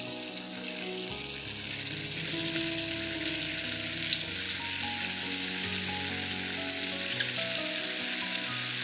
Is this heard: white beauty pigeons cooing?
no